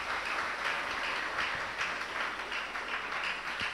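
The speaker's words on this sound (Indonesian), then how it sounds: "Kita kasih aplaus untuk tamu kami" An audience at a gathering for a boarding-school leader's address applauds its guests, with steady, dense clapping from many hands throughout.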